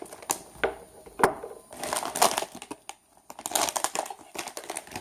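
A foil blind bag for a Masters of the Universe vinyl figure is torn open by hand, giving loud, close crinkling and ripping bursts in uneven spurts with brief pauses, no talk over it.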